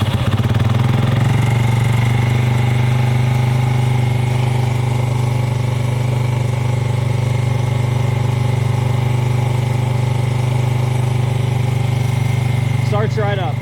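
A 1987 Yamaha SRX 250 single-cylinder motorcycle cold-started with fuel enrichment on settles into a steady, loud, close idle throughout, with a rhythmic low thrum that stays even until a faint clatter near the end.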